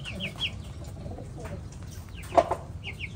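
Pigeons coo and chickens, including Dong Tao birds, cluck softly in a farm enclosure, a low continuous murmur of calls with a brief sharper squawk midway and occasional wing movement.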